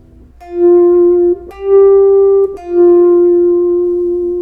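Three sustained electric guitar notes swell in and fade in turn, each with a slightly gritty, overdriven edge, loud and close.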